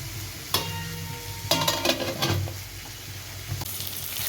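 Onions and tomatoes sizzle steadily in a hot pan, with a few louder clatters and scrapes of stirring breaking through the constant frying hiss.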